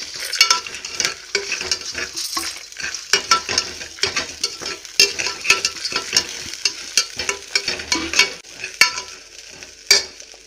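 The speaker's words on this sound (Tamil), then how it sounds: "உப்பு, கடலைப்பருப்பு எல்லாத்தையும் போட்டு நல்லா வதக்கிக்கிறோம்" Chana dal and salt dry roasting in a pan with no oil, a steady stirring rattle of lentils scraping the metal broken by frequent sharp clicks of the spoon, close and continuous with no talking.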